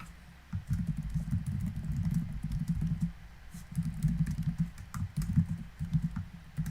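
Rapid click-clack typing on a computer keyboard, close and steady with brief pauses, in a quiet room with no music or talk.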